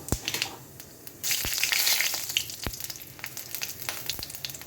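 Cumin, bay leaf and dried chillies drop into hot oil in a kadai and burst into a loud, close hiss that gradually settles into steady sizzling and crackling, with a few sharp clinks of utensils.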